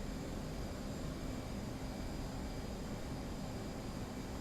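F/A-18C jet engine in the DCS flight simulator, a steady, dense broadband roar with a constant whine, continuous and even throughout with no talk.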